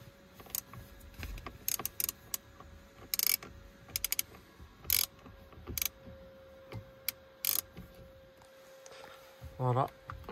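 Torx 20 screws being unscrewed behind the steering wheel airbag of an Audi A3: a series of sharp ratchet-like clicks and ticks in irregular bursts, close by, with quiet background between them.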